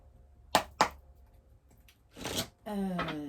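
Tarot oracle cards are shuffled near the start in two sharp riffles, followed by quieter rustling and a longer burst of handling, then a person begins speaking.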